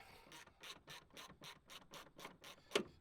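A hand ratchet works on 10mm bolts on a 2010 Kia Forte, giving a fast, even run of about ten crisp clicks, close and fairly quiet, ending with one sharper click; no talk.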